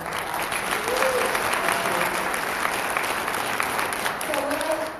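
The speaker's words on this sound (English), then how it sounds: "Let's give them one more round of applause" Audience at a Second Amendment governor candidate forum in Idaho applauds the candidates, a dense, steady wash of clapping from a sizable crowd, sustained and even throughout with faint voices underneath.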